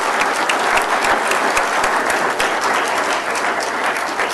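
A crowd at a county board of supervisors candidates' forum gives steady, dense applause. The clapping stays strong and even throughout, with no voices on top.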